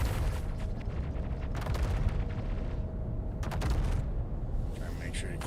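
A spaceship turret fires in the game Star Citizen, producing loud rapid bursts of gunfire over a heavy, constant engine rumble, with pauses between volleys and a voice speaking over the action.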